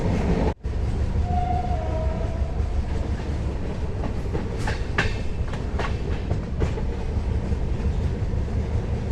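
A passenger train rolls along steadily near New Mal Junction with a constant low rumble and rhythmic clicking of wheels over rail joints, heard from on board.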